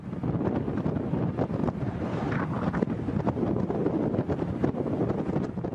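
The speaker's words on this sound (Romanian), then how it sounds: "Din cauza vântului puternic care suflă cu peste 100 de kilometri pe oră" Strong wind during the California wildfires, a continuous loud roar of gusts buffeting the microphone with rumbling low-end noise and no speech.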